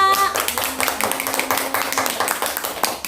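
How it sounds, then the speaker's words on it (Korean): A room of people clapping together in a group session, a quick burst of hand claps at steady strength with a faint tone and voices underneath. "큰 함성 박수 함께 시작하겠습니다."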